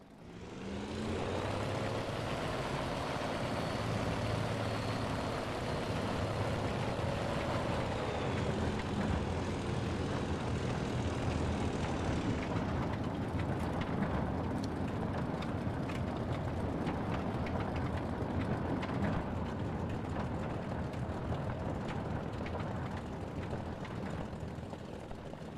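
In War Thunder, a Ki-61 Hei fighter's piston engine drones steadily and loudly, revving up in pitch early on and then settling into a continuous rough roar with mechanical rattle as it readies for takeoff.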